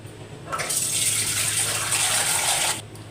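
Water gushes steadily into a bowl of freshly churned butter for washing, a close, full pour lasting a couple of seconds before it stops.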